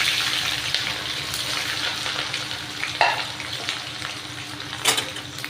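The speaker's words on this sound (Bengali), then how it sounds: "পেঁয়াজটা ভালো করে ভেজে নেব।" Onion fries in a pan with dried red chilli and whole cumin, a continuous close sizzle marked by occasional stirring scrapes and brief louder bursts, with no one speaking.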